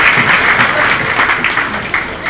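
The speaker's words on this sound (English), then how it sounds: "Give him a round of applause" Audience applause for a four-year-old boy at an Eid al-Adha celebration, steady clapping that fills the whole moment at close range and fairly loud, with some speech-like murmur mixed in.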